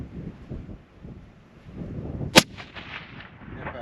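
A single sharp rifle report cracks at a long range shooting facility in Texas, followed by a faint echo over steady wind noise.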